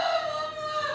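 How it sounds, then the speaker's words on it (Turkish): A rooster crows once, a loud, close, drawn-out call. "o da ötmeye başladı"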